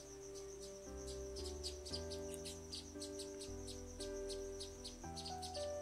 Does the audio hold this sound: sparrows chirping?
yes